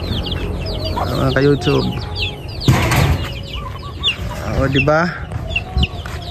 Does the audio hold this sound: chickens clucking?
yes